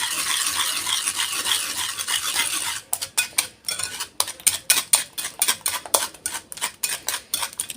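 Rapid rhythmic clinking of a whisk against a bowl as oil and honey are worked into cake batter, steady close scraping strokes starting after a few seconds of softer hiss, with no talking.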